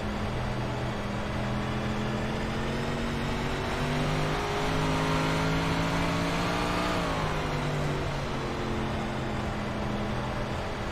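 Onboard a race car at a winter night race, the engine roars loud and continuous through a lap, its pitch climbing and dropping through throttle changes, with no voices.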